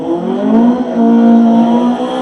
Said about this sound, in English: You can hear that Honda behind me revving up.